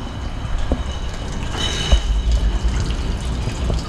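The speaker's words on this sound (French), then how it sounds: "on presse et là on récupère le jus qui était en contact un tout petit peu avec les pellicules et le jus qui coule est rose" Rosé grape juice runs from a wine press at harvest time, a continuous close splashing trickle of liquid with occasional drips and a low gurgle partway through.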